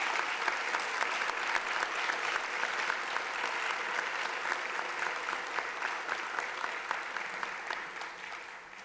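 A standing ovation at a school celebration of excellence: sustained, even applause from a large crowd, loud and steady throughout with a slight fade at the end and no talking over it.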